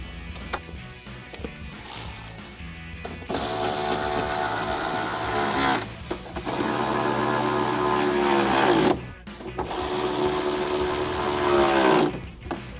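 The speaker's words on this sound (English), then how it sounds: "grab our ratchet and 10mm socket and tighten them down" Hand ratchet with a 10mm socket tightening the intake box bolts on a Chevrolet Silverado 1500 while a Corsa closed-box cold air intake is installed, heard as several long sustained bursts of close mechanical clicking separated by short pauses.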